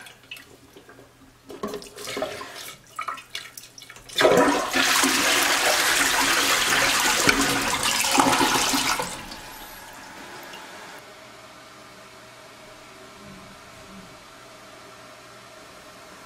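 A newly installed toilet in a Jack and Jill bathroom flushes with a loud rushing burst lasting about five seconds, then the tank refills slowly, a steady faint hiss of water continuing alone after some handling clatter at the start.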